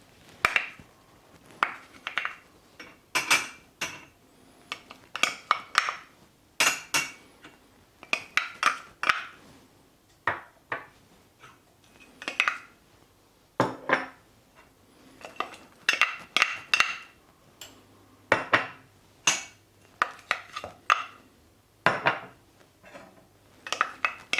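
Jaggery and other ingredients are added to soy sauce in a pot for gluten-free kecap manis, giving a steady run of close clinks, taps and clatters from utensils and containers, with no talk.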